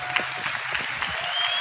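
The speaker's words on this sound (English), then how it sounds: "Give her a round of applause" Dense, even applause fills a large hall during a Star Wars Celebration 2017 panel in Orlando, a continuous crowd clapping with faint voices underneath.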